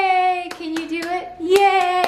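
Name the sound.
baby clapping hands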